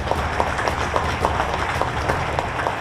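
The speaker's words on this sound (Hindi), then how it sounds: "जोरदार ताली होनी चाहिए।" A crowd applauds at an inauguration event held by the Bihar chief minister, a steady, even wash of many hands clapping that carries on throughout with no pause.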